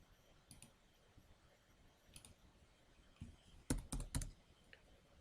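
Quiet keyboard typing with scattered single key clicks followed by a quick cluster of louder taps near the end, close-up and alone with no talking.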